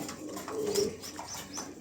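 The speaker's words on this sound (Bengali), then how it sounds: "খুবই চমৎকার একজোড়া কবুতর" A pair of domestic pigeons coos close by, soft low throaty calls rising and falling over about two seconds, with faint chirps in the background.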